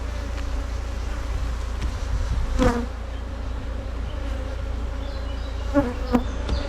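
Continuous buzzing of honeybees at a beehive during work on a divisible hive, with a few bees zipping close by in brief louder passes over the steady swarm drone.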